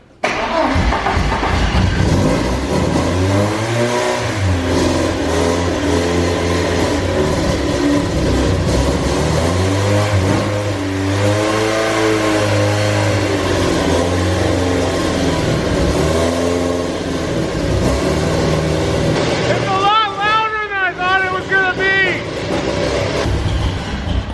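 A Porsche 944 race car engine with full exhaust and headers roars and revs continuously with heavy exhaust rumble, pitch rising and falling in waves, ending with a few sharp high-pitched revs.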